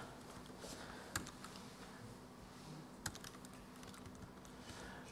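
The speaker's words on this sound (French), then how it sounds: "C'est sûr que c'est un clavier" Typing on a computer keyboard, faint soft key patter with two sharper clacks, heard alone at low level.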